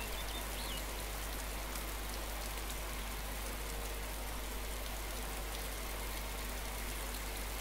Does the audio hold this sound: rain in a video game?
yes